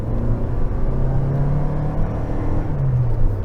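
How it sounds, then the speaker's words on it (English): A 2021 Toyota Venza hybrid accelerates under full throttle, heard from inside as a loud, steady droning hum that rumbles on without pause and without speech. "If I punch the throttle real quick,"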